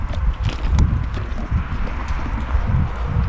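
Horses walking on a Texas farm near longhorns and an old barn, with close, irregular clip-clop hoofbeats continuing throughout, plus some rustling and no talking.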